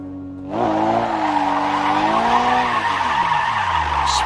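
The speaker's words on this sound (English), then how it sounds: "Let's go last drift on this part right here." A car drifting, tires skidding and squealing in a long continuous screech over a revving engine that rises and falls, loud and close, with no talking.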